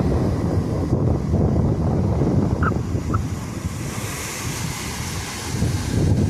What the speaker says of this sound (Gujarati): પાણીના મોજા હોય કાંઈ ઘટે નહીં એવું છે.